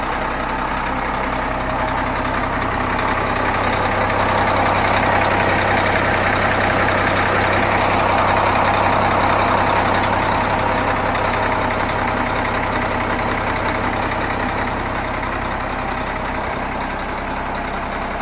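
A Changlin PY165H motor grader diesel engine idling after a rebuild, a steady low throbbing rumble with a mid-range hum that swells slightly in the middle, continuous and fairly close, with no speech.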